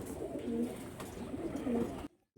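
A Kalshira pigeon coos in soft, low repeated notes at close range, a few throaty phrases over faint background noise, ending abruptly.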